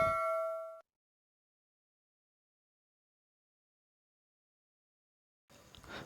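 A single bright ding from a notification bell icon rings out clearly and fades within a second. Silence follows, then a faint, brief murmur of sound closes the stretch.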